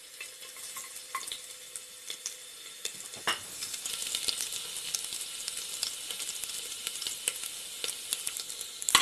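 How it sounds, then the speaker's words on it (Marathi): Crushed black cardamom, a bay leaf and crushed garlic cloves sauté in oil in a pan, starting as a quiet crackle and swelling into a steady, close sizzle with bright pops. "हे थोडं मी परतून घेते."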